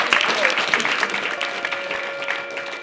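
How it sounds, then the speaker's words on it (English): Audience applause at an event honouring a former England rugby league captain, a dense wash of steady clapping from a crowd that holds for a few seconds and begins to taper off. "Round of applause."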